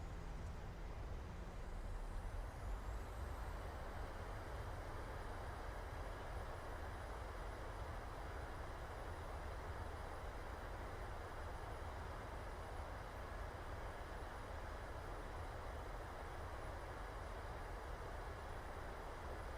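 Steady loud roar from a PMDG 737-800 in a flight simulator as thrust reversers deploy on landing at San Diego, a continuous broadband rumble with a faint high whine, holding level throughout.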